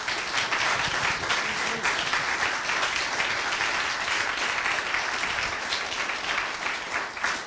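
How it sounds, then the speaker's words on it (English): A mayoral debate audience gives a big round of applause, dense and sustained clapping from many hands filling the room at steady loudness throughout. "So let's give them a big round of applause."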